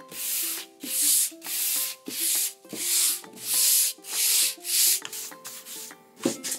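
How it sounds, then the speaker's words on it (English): Sandpaper rubbed over a painted wooden stencil sign in about nine rhythmic back-and-forth strokes, loud and close, each scratchy pass separated by short pauses, with no talking. "I'm gonna take my sandpaper and I'm just gonna run it over this one quick time"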